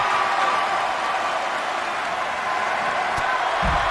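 Arena crowd noise at a WWE 2K20 wrestling match, a steady broad roar of cheering and applause that holds evenly throughout without clear pauses.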